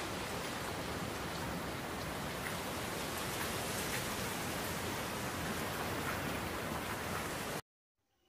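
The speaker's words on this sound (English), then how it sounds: "It's the sound of rain." Steady, dense rain pattering continuously for several seconds, then cutting off abruptly to silence near the end.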